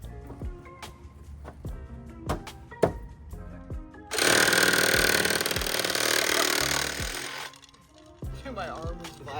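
A power saw cuts through a snorkel pipe for a Civic truck, a loud, sustained buzzing for about three seconds after scattered knocks and handling clatter, with sharp tool noises continuing afterward.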